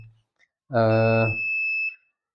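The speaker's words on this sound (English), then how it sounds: "the buzzer is also on, indicating that either battery is fully charged" A battery charger's buzzer gives one steady electronic tone lasting about a second, close and clear against near silence, signalling a fully charged battery.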